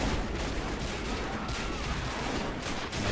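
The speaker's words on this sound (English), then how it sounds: "I think the Canadian mortar is holding them back here on the right side of the fort" Mortar explosions and gunfire from a war video game set at a fort during a fictional 1912 American invasion of Canada, a dense continuous rumble of blasts and shots with no pause.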